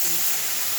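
Water hits a hot pan of fried lentils and sizzles in a steady, bright hiss that holds evenly from start to finish, close and fairly loud, with no talking.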